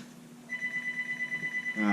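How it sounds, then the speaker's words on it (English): A telephone rings indoors in a knife-sharpening workshop, a steady electronic warble pulsing rapidly for over a second, fairly close and clear over quiet room tone. "sorry, the phone's ringing, I have no idea who it is"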